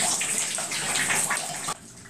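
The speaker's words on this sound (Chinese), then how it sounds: "厝内天棚一直咧漏水" Water leaking from the ceiling of a renovated old house and pouring into buckets, a steady gushing splash close by that cuts off abruptly near the end.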